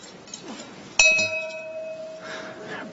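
A single quick strike of a small bell at a Workers Day of Mourning memorial, sharp onset with a clear ringing tone that sustains and fades over about two seconds, with soft room murmur around it.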